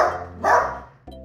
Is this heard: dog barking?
yes